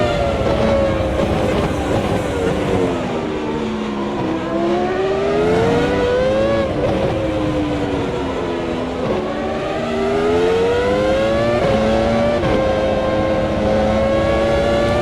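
A Formula One car engine in a racing video game at the 2002 US Grand Prix, a loud continuous whine rising and falling in pitch through repeated shifts and throttle changes, close and without talk.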